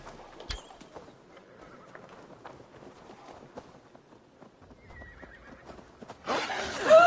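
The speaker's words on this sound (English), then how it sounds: "My horse whinnied too late." A horse whinnies loudly near the end in Assassin's Creed Valhalla, a sudden close neigh after quiet footsteps and faint ambience.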